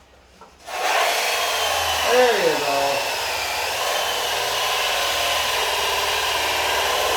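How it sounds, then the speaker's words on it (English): Hole saw boring through material, a loud sustained whirring grind that starts abruptly and continues steadily, close by, with a brief pitch wobble early on and a short spoken remark. "You're basically just drilling a hole."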